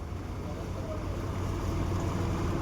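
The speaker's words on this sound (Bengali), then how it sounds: "আমাদের লঞ্চ ছেড়ে দিল।" A motor launch pulls away on a river in the Sundarbans, its engine a steady low drone under constant water and wind noise, continuous and fairly close throughout.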